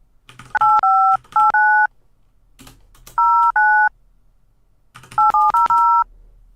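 DTMF tones of a telephone number being dialed to reach an office, three clear bursts of several evenly spaced beeps separated by short pauses, loud and close with no voices.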